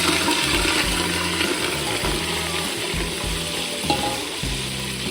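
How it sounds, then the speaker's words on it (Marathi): Whole spices crackle and sizzle steadily in very hot oil for mutton rassa, a dense continuous frying hiss with low bubbling throughout and no talk. "आता तेल खूप गरम झालेला आहे, त्यामध्ये खडा मसाला टाकणार आहे।"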